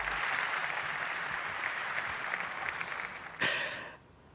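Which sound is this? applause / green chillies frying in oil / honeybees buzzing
applause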